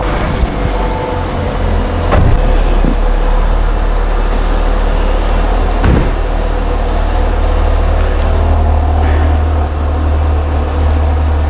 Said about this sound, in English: Let's turn on the motor and see what the flaps do.